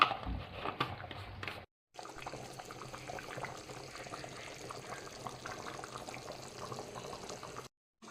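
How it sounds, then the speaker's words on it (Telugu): Egg curry broth (kodi guddu pulusu) seasoned with cumin and fenugreek powder, boiling in a pot on the stove, a soft, steady bubbling simmer with a couple of brief silent breaks. "చారు అయితే చూసిరా ఎంత మంచిగా మసులుతుందో."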